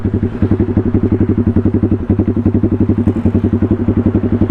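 A motorcycle with a loud aftermarket muffler idles close by with a deep, loud, rapid pulsing exhaust thump, steady and rhythmic throughout, with no talking.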